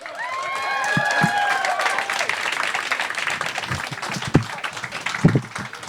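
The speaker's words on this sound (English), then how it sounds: "Keep clapping." A comedy club audience claps and cheers for a comedian, with whistles near the start and scattered louder claps and shouts later, moderate level, a voice briefly heard.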